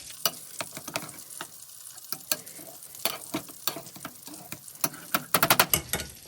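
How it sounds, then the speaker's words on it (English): Cooked potatoes are mashed by hand in a bowl or pot, giving irregular soft thumps and squelchy clicks at close range, quickening into a rapid burst near the end. "Make sure you mash it all the way through."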